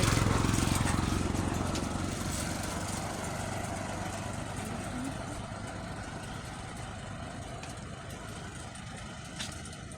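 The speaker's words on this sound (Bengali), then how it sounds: "ওই সামনে আরেকটা নৌকা আসতেছে।" An engine drones from a sand-carrying wooden river boat approaching on the water, loudest at first and then holding a steady mid-distance rumble, with no talk over it.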